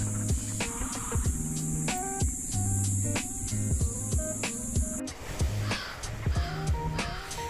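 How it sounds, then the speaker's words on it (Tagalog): Many crows caw repeatedly at a beach resort, their harsh calls coming in quick overlapping bursts over steady background noise, moderately loud and fairly near. "Daming uwak."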